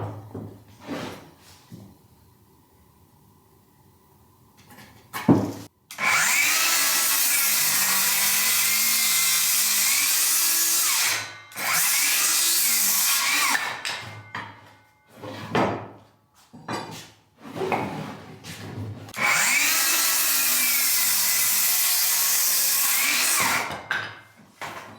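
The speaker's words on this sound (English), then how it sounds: "I want to get these two boards cut and installed before I forget" A power saw cuts boards at an off-grid house build: two long, loud, steady runs of cutting, separated by knocks and handling noise, with quiet room sound before the first cut.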